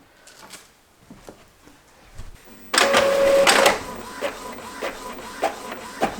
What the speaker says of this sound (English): I'm starting with printing some very faint dot grids onto this lovely paper.